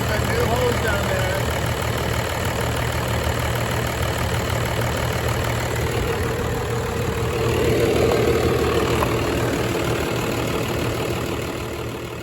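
A 1996 Dodge 2500 pickup's 12-valve Cummins diesel idles steadily at close range, a low, even rumble with faint knock that holds for the whole stretch, swelling slightly near the end, with someone talking over it.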